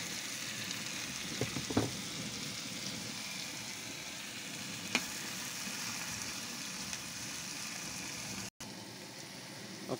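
Chow mein with tomatoes frying in a pan at home, giving a steady close sizzle that runs throughout with a few soft stirring clinks and no talk.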